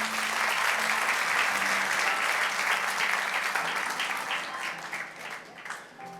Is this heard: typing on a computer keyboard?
no